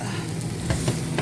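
Lamb searing under a broiler, a steady close sizzle with faint soft pops and crackles running throughout.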